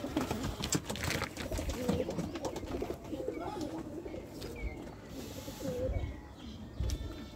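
Pigeons coo softly inside a dirty pigeon house, low, rounded calls repeating now and then over a faint, busy background rustle, quiet and close.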